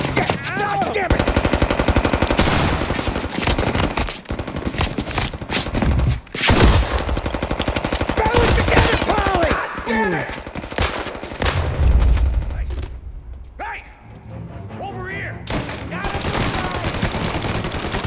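Gunfire in the video game Mafia Definitive Edition: loud, sustained bursts of machine-gun and rapid gunshot fire, with shouting voices mixed in, easing briefly before the shooting picks up again.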